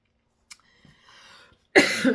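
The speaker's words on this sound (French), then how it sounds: "Ça me fait tousser, vous voyez." A brief click, then a soft murmur, followed by a single loud, harsh cough close by near the end.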